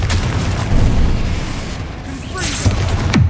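Confringo spell explosions in a Harry Potter video game land as loud, deep booms over a dense rumble of battle noise, with a couple of sharp bursts near the end and a voice heard among them.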